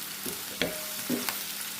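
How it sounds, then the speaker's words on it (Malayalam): Ginger garlic paste frying in a pan for gobi manchurian, a close hiss of sizzling oil with a few quick scrapes and stirring knocks. "ഇനി നമുക്ക് ജിഞ്ചർ ഗാർലിക് പേസ്റ്റ് കൂടെ ആഡ് ചെയ്യാം"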